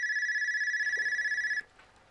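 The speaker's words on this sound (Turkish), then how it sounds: "Telefon çalıyor." Telephone ringing in an indoor television sitcom scene, a close, shrill electronic trill with a rapid warble that sounds for about a second and a half, then cuts off abruptly into near silence.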